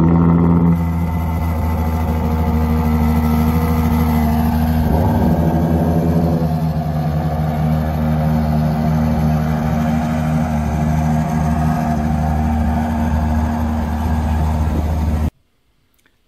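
A red Ferrari Monza SP starts up outdoors at a concours: the engine catches and settles into a loud, steady idle with a slight rise in revs, running continuously before cutting off abruptly at the end.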